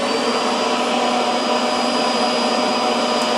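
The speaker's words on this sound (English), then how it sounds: "This is a floor vacuum, and if I kick this up, it will turn on." A built-in floor vacuum inside an LMTV overland camper runs as a loud, steady whooshing hum, even and unbroken throughout with no talk over it.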